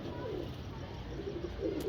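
Pigeon cooing at a small breeder setup housing paired pigeons and quail, soft low coos repeating close by over a steady background hum.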